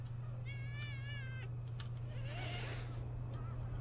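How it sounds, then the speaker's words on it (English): Cats meow in the video game Thirty Flights of Loving, with one clear wavering meow followed by a softer, lower call over a steady low hum. "Oh, hey kitties. Aw, hi kitties."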